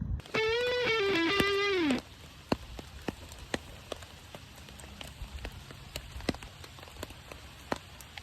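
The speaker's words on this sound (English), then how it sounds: "We're actually getting some rain, so I get to use my stuff." Soft patter of raindrops on a surface, scattered irregular ticks and taps, preceded by a brief burst of a warbling electronic tone.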